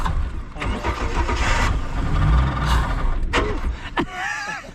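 Holden Barra engine with 338,000 kilometres cranking and catching, then running loud and rough with surges, close up, with a brief voice near the end.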